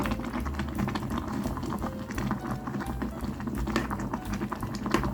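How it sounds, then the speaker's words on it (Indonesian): Water bubbles and churns at a rolling boil in an electric multipurpose pot, a dense, continuous gurgling with irregular popping, close up and steady throughout. "sampai mendidih sekali ya airnya."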